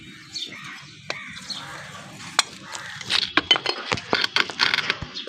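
Small ceramic clinks and clatters from broken clay pot shards being handled for repotting a plant, sparse at first and then a denser run of sharp taps near the end, fairly close, with faint bird chirps behind.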